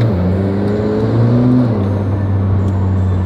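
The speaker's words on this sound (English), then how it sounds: "Did you hear the turbo noise?" A McLaren Senna engine hums steadily with rising and falling tones, a turbo whir layered over the low drone, fairly loud and close.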